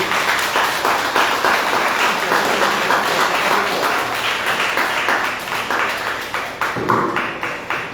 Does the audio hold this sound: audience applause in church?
yes